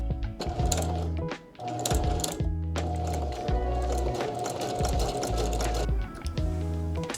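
A sewing machine runs steadily while basting a dress draped across a table, its needle mechanism chattering in a fast, even rhythm that pauses briefly and then resumes, loud and close with no talk.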